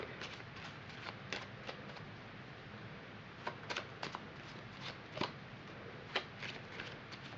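Cards riffle and snap in quick bursts, a soft continuous shuffling with several crisp flicks, close and fairly quiet.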